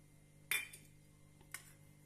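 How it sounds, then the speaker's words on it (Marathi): Green chillies drop into a steel mixer jar with a bright metallic clink, then a second lighter clink a second later, quiet and close against a faint hum. "एक मिक्सरचं भांडं घेतलेलं आहे त्यामध्ये ह्या तीन हिरव्या मिरच्या घालूया"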